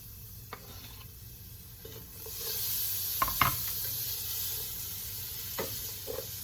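Chopped onion and garlic sizzle steadily in a hot pan for a Zuppa Toscana soup base, a close continuous hiss that swells midway, with a few sharp spoon clicks and scrapes from stirring.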